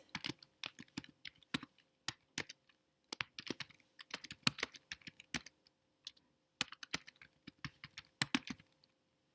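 Close, sparse keystrokes on a computer keyboard come in short bursts of clicks separated by silent pauses, with no other sound around them.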